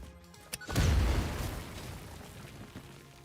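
A single deep boom of an explosion in the Satisfactory factory-building video game, a sudden loud blast that rumbles and slowly fades, with no talking.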